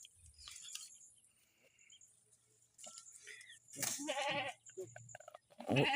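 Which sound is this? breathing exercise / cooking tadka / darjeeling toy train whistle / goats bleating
goats bleating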